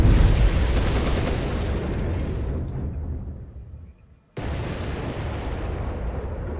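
Tank cannon fire and explosions in the World War II strategy game Codename: Panzer, a loud continuous roar of blasts that fades out, cuts to near silence, then resumes abruptly at full strength.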